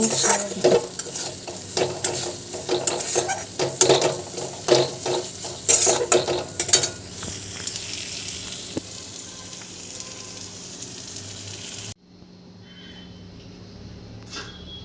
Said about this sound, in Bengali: দেখো মাছটা ভাজা হয়ে গেছে মাছের ঝাল করবো